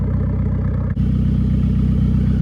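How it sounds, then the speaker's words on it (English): A loud, steady boosted, engine-swapped Volvo 240 idles close by through a near straight-pipe exhaust with a deep, throbbing note, briefly dipping once before settling back into its rumble. "for being more or less a glorified straight pipe, it sounds very tame and respectful"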